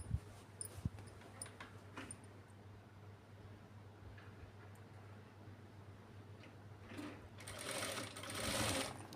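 Sewing machine stitching frills onto a kids' lehenga, a close, quiet whirring run of stitches with small ticks and clicks, starting and pausing, then a louder burst near the end.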